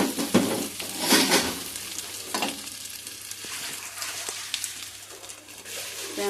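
Taro root pieces with turmeric tipped into a hot pan and stirred: a steady sizzle with irregular scraping and stirring strokes, plus a few clinks of utensil against metal, close and fairly loud with no talk.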